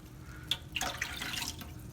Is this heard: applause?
no